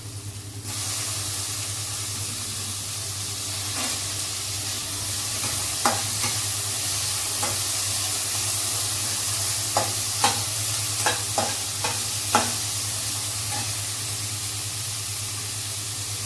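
Tomatoes frying in a pan with a steady, close sizzle, broken by sharp scrapes and knocks of a spoon as they are stirred; no one speaks.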